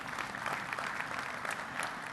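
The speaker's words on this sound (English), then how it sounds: "give him a round of applause," Steady applause from a conference audience at a 2014 industry technology conference, a dense wash of many clapping hands that holds fairly even throughout and carries no talk.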